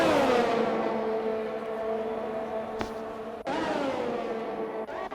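Racing cars overtaking in an F1-style racing video game at Baku, engines whining high and steady, with sharp pitch shifts as a car passes and a gear change near the end.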